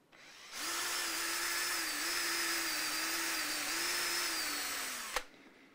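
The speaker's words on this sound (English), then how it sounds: "Okay, here's my guide, here's my drill." A power drill with a guide bores into a Hohner G3T electric guitar body during a refret and refurbishment, a steady high whine that starts abruptly, holds for about five seconds and cuts off with a sharp click.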